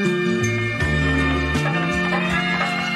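A chopped sample for a boom bap hip hop beat plays alone, with stepping low bass notes changing every half second or so beneath a dense, steady layer of higher melodic tones, no voices.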